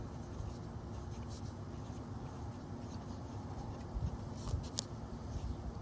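A Lamy Safari fountain pen writes on paper with brown Robert Oster Gold Antiqua ink, making a soft, steady scratching, faint and close, with a few slightly louder strokes near the end.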